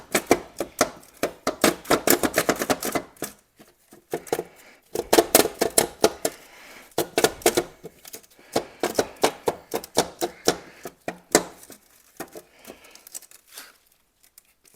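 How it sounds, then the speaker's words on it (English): Snipping and cutting through the end of a cable while stripping the rear subframe of a Jaguar XKR, with rapid irregular bursts of clipping, crunching and tearing close up, in busy clusters separated by short pauses. "I think if I cut the very end of the cable off"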